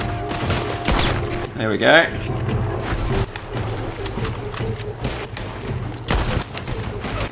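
Rapid gunfire during a headshot shootout in Red Dead Redemption 2, repeated sharp cracks and booms with in-game ambience, while someone speaks briefly over the shooting.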